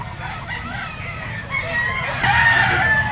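Roosters and hens at the Grotto pet market in the Philippines, with clucking and a crow rising through the last second over a busy crowd murmur.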